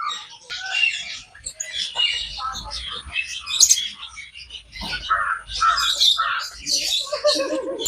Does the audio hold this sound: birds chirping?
yes